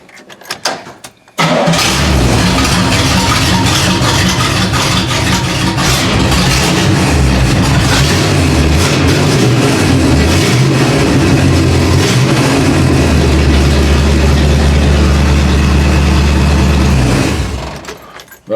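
A Chevrolet K10 truck engine cranks briefly and catches, then settles into a loud, steady, rough idle close by, running rich, with a few small rises in revs before it cuts off near the end.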